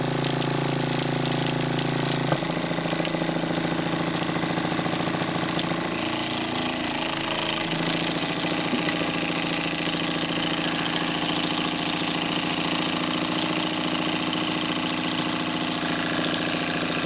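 A heavily primed engine runs loudly and steadily at a rough idle, with a constant knocking throb and mechanical vibration that continues unbroken, no voices.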